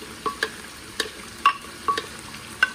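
Ginger, garlic and green chili paste fries in a pan for chicken karahi, with a steady faint sizzle under a series of sharp spoon scrapes and taps as it is stirred, about six strokes in under three seconds.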